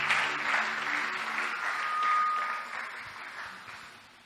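A church congregation applauds, a dense, sustained wash of clapping from many hands that swells and slowly thins, with a voice faintly underneath early on.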